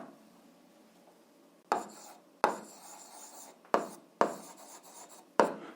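A pen or chalk writes on a board in five separate bursts, each a sharp start followed by a short scratchy stroke, close and clear against a quiet room, with no talk.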